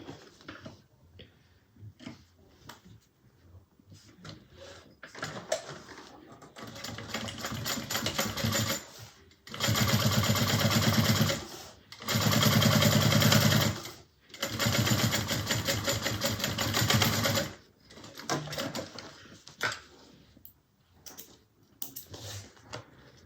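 A sewing machine bastes fabric at a 1/8 inch seam allowance in several separate bursts of fast, rattling stitching, broken by short pauses and quieter handling sounds, close and moderately loud.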